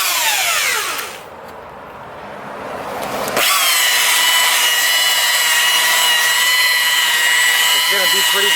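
Buffing wheel with a new rag and gritty compound working over rusty car paint, a steady loud whirring grind that dips briefly, then returns strong and continuous.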